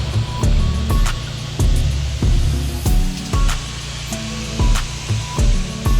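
Water spray rinsing Tino Ceramic Snow Foam off a Rolls Royce Cullinan, steady hissing bursts of pressurized water starting and stopping repeatedly, fairly close, with no talking.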